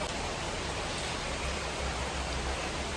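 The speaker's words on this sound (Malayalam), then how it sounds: "കാരണം നല്ല മഴ വരുന്നുണ്ട്" Heavy rain falls in a steady, dense roar of water, constant and unbroken throughout, with no talking.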